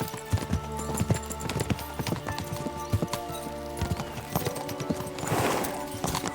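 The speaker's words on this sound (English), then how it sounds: "We should spur the horses on." Rapid, overlapping hoofbeats of several horses galloping in the video game Kingdom Come: Deliverance II, loud and rhythmic, with a brief whoosh of wind or movement near the end.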